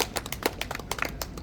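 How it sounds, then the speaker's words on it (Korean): An audience gives scattered, fairly faint applause to welcome a speaker at an outdoor cultural arts festival ceremony in Insadong, with irregular individual claps and no voices. "다시 한번 큰 박수로 환영해 주시면 감사하겠습니다"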